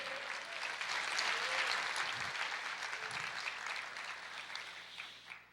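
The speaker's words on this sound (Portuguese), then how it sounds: "Você pode aplaudir o Senhor?" A church congregation applauds together during a worship service, a dense steady wash of hand clapping lasting several seconds before tapering off at the end.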